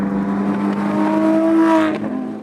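A 2022 Lamborghini Aventador Ultimae engine revs steadily toward redline, its loud, rising wail building over about two seconds before cutting off, with no talking.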